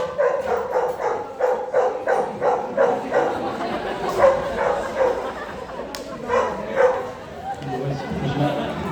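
Sheepdogs barking in repeated bursts while working a flock of sheep at a farm show, with a handler calling commands over them.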